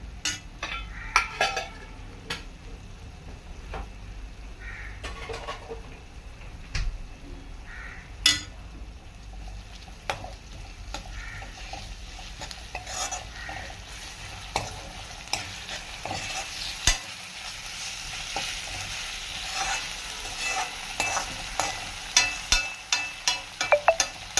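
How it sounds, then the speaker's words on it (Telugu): Onions and ginger garlic paste fry in a pan with a constant soft sizzle while a spoon stirs and scrapes the pan again and again, giving a run of light clinks and knocks. "ఆనియన్ బాగా ఫ్రై అయిపోయి ఇప్పుడు అల్లం వెల్లుల్లి పేస్ట్ 2 స్పూన్స్"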